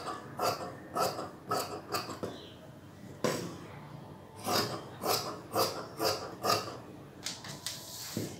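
Scissors cut through cloth folded in four layers for a chudi pant, giving a series of short, crisp rasping snips in uneven bursts, close up and moderately loud, with no talking.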